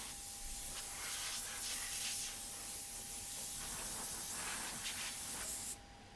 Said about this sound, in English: When I touch that seat with the air compressor, then things get much worse.